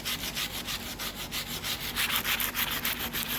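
Close back-and-forth sanding strokes scrape across the surface of a wooden table in a quick, even rhythm that grows slightly louder and faster toward the end, with no voices.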